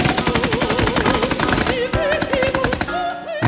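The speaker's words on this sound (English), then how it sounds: "At 600 rounds per minute, the Maxim gun's full metal jacket projectiles would pierce the Matabele's cowhide shields with ease." A Maxim machine gun firing at roughly 600 rounds per minute, a continuous loud rattle of rapid shots mixed with dense layered sound throughout.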